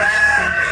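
A chicken near a waterer gives a short, close, loud crowing call that lasts under a second.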